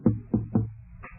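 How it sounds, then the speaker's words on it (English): Three evenly spaced knocks land on a door in an old radio drama, muffled and resonant, followed by a softer thud. "And then there was a knock on the door."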